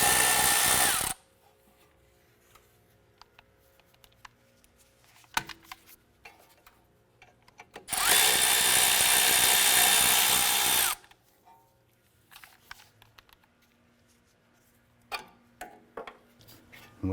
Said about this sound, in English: Using our 10mm socket, we're going to go ahead and remove the nuts and bolts.